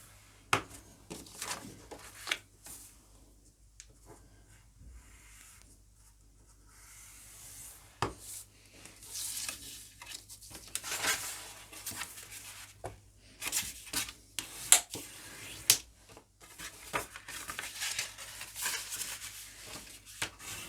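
A scoring tool scrapes and rubs steadily along paper, close and quiet, with irregular scratchy strokes and occasional light taps for about twenty seconds.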